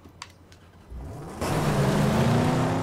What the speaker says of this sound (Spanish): Me encanta cuando se enciende este coche, macho ¿Cómo suena?